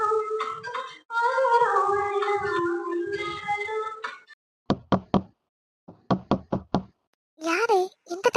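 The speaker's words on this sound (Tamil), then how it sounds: "யாரு இந்த டைம்ல கதவு தட்டுறது?" A voice speaks for several seconds in an animated scene. Then come sharp knocks on a door in two quick groups of three and four, loud and close, with a short voiced sound in between.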